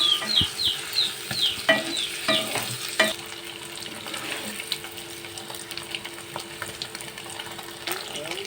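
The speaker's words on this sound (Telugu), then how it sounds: "కడాయి వేడైన తర్వాత దాంట్లో బటర్ వేసుకోవాలి వేడైన తర్వాత ముందుగా కట్ చేసి పెట్టుకున్న పన్నీర్ ముక్కల్ని ఇందులో వేసుకొని ఫ్రై చేసుకోవాలి" Cut paneer pieces fry in hot butter in a kadai, giving a loud, close sizzle with spatula stirs and scrapes, busier in the first few seconds and then settling into a steadier hiss.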